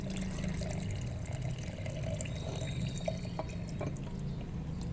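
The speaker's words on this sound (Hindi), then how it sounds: "साथ में 2 गिलास के बराबर यहाँ पे हम जो है दूध ऐड करेंगे।" Milk pours into a container for a peach milkshake as a soft, continuous liquid rush, faint and close, with a few small drips near the end.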